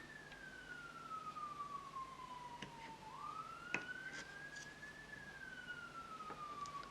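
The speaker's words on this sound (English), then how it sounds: "You can probably hear the sirens on the main road going past." Faint, distant sirens on a main road wail and slowly rise and fall as they pass, with soft traffic noise and a few light clicks.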